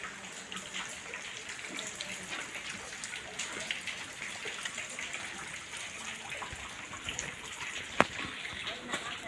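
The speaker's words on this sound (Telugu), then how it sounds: "వర్షం పడుతుంది కదండి" Steady rain falls outside a house, a continuous soft hiss with scattered drips and one sharp tap, while a voice is faintly present.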